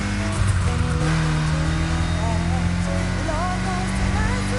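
A car drives in a PS5 video game, steady engine hum with tonal sweeps, close and fairly loud, with music-like tones layered over it.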